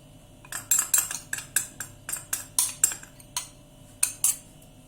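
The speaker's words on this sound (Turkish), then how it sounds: "ve kakao ekliyorum. Bir yemek kaşığı dolusu." A metal spoon clinks against a bowl about a dozen times in a quick, uneven rhythm while cocoa is added to cake batter for a steamed cake. The clinks are close and bright, with no voices.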